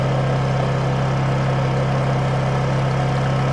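A Honda EU2200i portable inverter generator idling close by with a steady, unbroken engine hum and vibration, loud and constant, with no voices.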